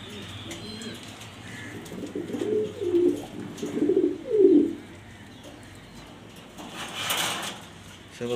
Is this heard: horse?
no